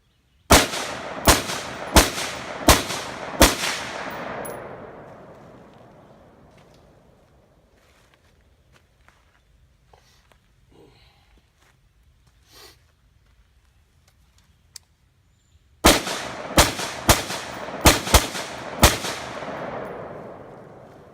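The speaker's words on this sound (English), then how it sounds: "I'll shoot through the backup sights now." An assault rifle fired using its backup iron sights lets off two loud, close strings of about five evenly spaced shots, separated by a quiet gap of faint sounds.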